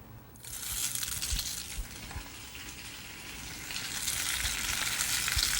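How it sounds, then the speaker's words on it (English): Noodle galettes hit hot oil in a pan and break into a loud, bright sizzle that starts sharply and holds steady, swelling louder near the end, with a few soft low knocks underneath. "we can begin to saute our noodle galettes"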